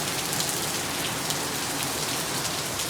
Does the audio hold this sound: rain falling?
yes